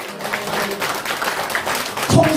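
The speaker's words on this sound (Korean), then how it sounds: "살아계신 하나님께 영광의 박수를 칩시다." A church congregation breaks into brief, moderately loud clapping during a Sunday service, a mixed patter of many hands lasting a couple of seconds before a voice cuts in.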